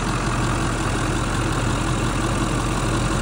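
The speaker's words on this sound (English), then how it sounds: "turbo diesel engine, power stroke" A Ford 7.3-litre Power Stroke turbo diesel engine in a van idles steadily with a low, continuous rumble and clatter, loud and close, with no voices.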